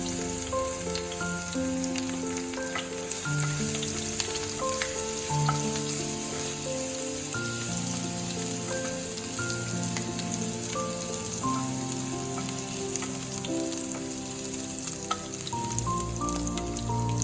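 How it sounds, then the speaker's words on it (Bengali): Crushed garlic frying in hot oil for an okra mustard-poppy seed dish, a steady dense sizzle running throughout with background music layered over it, no talking. "এবার আমি এই গরম তেলের মধ্যে রসুনটা থেতো করে নিয়েছিলাম, এই রসুনটা দিয়ে দিচ্ছি।"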